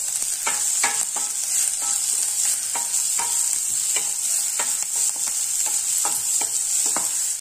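Steady sizzling from onions sautéing in a pan with a little salt, with repeated scraping and stirring strokes at an irregular rhythm, close and continuous, no voices.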